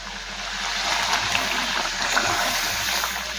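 Masala fish gravy boils in a pan as pre-fried fish pieces go in, a continuous bubbling, splattering hiss at moderate volume with no talking.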